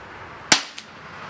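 A single sharp crack from a Cybergun IWI Jericho 941 metal-slide CO2 BB pistol is followed a moment later by a fainter, shorter snap, both loud and close.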